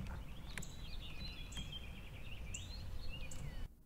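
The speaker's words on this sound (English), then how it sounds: "So we've got some pretty birds right here." Faint birds chirp and warble outdoors in scattered short calls over a low, steady ambient hum.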